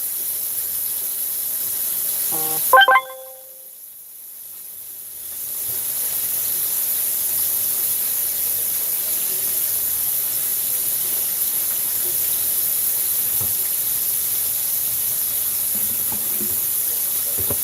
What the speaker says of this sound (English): when I say these chops are frying, they frying.